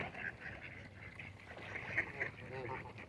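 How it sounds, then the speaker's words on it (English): Several ducks being fed outdoors, a white one among them, quack and honk softly in short repeated calls close by, a low busy chatter from the gathered flock. "there's this white duck right here"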